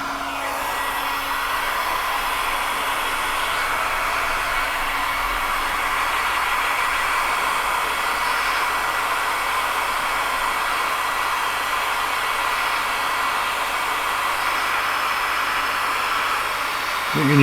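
A heat gun set to 120 degrees blows hot air steadily to dry a Sony remote control during a battery terminal repair, a continuous close whooshing roar with no break for the whole stretch.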